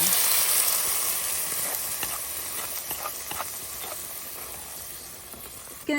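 Ground masala paste sizzles and hisses steadily in a hot pan with curry leaves for a fish curry, a bright crackling fry that slowly eases off over several seconds.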